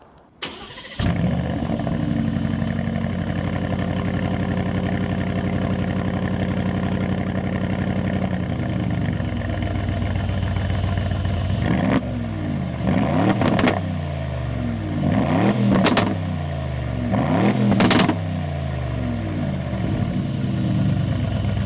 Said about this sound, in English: We're gonna give it a couple of revs and you're gonna hear that beautiful twin turbo 4-liter V8.